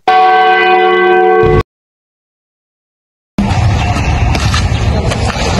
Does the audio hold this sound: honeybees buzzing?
no